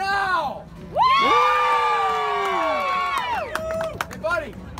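A street-show audience roars with sustained cheering, whooping and yelling, loud and close, with shouted voices rising over the crowd noise throughout.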